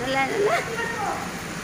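Steady heavy rain in Dubai hissing in the background while a person talks over it.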